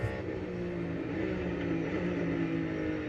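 A NASCAR race car lapping Circuit of the Americas, its engine and drivetrain droning loud and steady with harmonic whine throughout, no talking.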